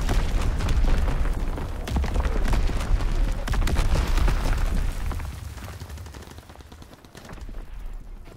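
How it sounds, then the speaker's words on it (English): Enemy artillery explodes in Call of Duty WWII multiplayer, a dense barrage of booming blasts and rattling gunfire that rumbles loudly before easing off toward the end. "Incoming enemy artillery."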